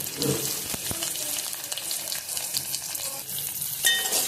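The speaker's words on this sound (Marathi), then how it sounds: "कांदा व्यवस्थित परतून घेतला की मग थोडंसं टोमॅटो टाकूया" Onions sizzle in a pan as they are stirred for a bitter gourd curry, a continuous close frying hiss with occasional utensil clicks and a brief watery sound near the end, no talking.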